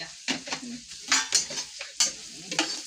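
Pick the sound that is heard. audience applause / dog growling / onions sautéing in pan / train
onions sautéing in pan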